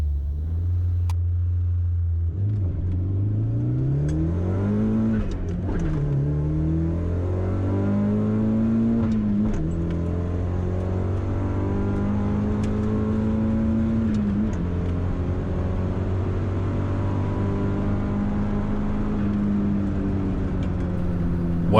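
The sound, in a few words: car doing a drag racing run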